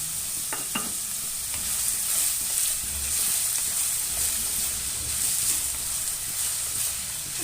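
Steady sizzling of tempering spices in hot oil with a pinch of salt for honagone greens bassaru, a continuous crackling hiss with a few sharp pops near the start, no voices.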